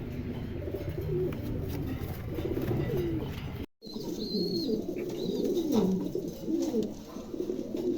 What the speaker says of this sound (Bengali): দুই জোড়া কবুতর আছে।